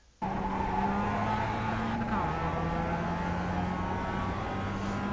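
Race car at Barber Motorsports Park, heard from onboard as a loud steady engine drone that drops in pitch at a downshift midway and then pulls on under acceleration.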